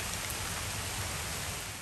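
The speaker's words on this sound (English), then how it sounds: "the rain decided not to hold off anymore." Steady rain falling outdoors on a downtown day meant for plein air painting near a park, an even, continuous hiss of drops with no voices.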